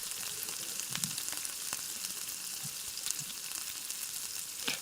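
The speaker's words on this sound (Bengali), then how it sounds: "দিয়ে দিলাম পেঁয়াজ বাটা পেঁয়াজটা আমি ভালোভাবে ভেজে নেব লাল লাল করে" Onion paste fries in a pan after garlic, with a steady, even sizzling hiss throughout and a few faint scrapes, heard close and alone at moderate level.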